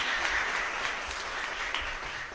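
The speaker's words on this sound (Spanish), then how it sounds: "Fuerte aplauso entonces para nosotros." Applause breaks out at a Catholic Mass held by a parish community, a steady, dense wash of clapping from a congregation throughout the short stretch, fairly even in loudness with no talk over it.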